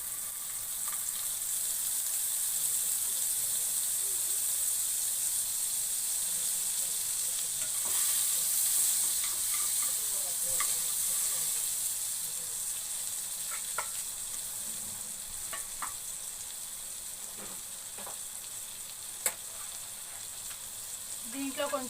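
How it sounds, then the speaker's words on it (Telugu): Butter fries in a pan on a stove as the start of a restaurant-style butter chicken gravy, a continuous close sizzle with light stirring clicks and a brief sharp tap near the end. "స్టవ్ పైన ప్యాన్ పెట్టుకొని కొంచెం బటర్ వేసుకోవాలి."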